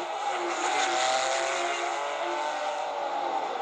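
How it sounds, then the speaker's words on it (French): Two Porsche-engined Courage race cars lap at the 1993 Le Mans 24 Hours, their engines roaring loud and continuous in a sustained high-pitched blare that holds steady throughout. "ce sont les deux Courage à moteur Porsche qui vont prendre un tour ici"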